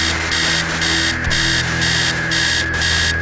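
An alarm clock rings in a text-based interactive horror video game, a loud electronic buzz pulsing in regular on-off bursts over a steady hum, continuous and without voices.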